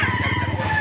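A quality gamefowl rooster at a chicken market in Padre Garcia, Batangas, lets out a short, loud, close crow lasting under a second.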